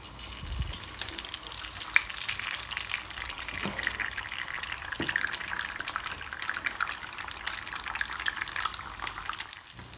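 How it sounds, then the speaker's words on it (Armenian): An egg omelette sizzles steadily in a frying pan, white and yolk stirred together right in the pan, a soft continuous crackle with occasional light scraping knocks, close and quiet with no talk. "ձուն, սպիտակուցը եւ դեղնուցը խառնում եմ հենց թավայի մեջ"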